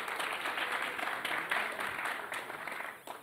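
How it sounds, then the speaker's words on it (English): Audience applause welcoming the Michigan team onto the stage at a student pitch competition finalist event, a steady wash of clapping from a crowd that holds evenly for about three seconds before tapering off. "big hand for Michigan."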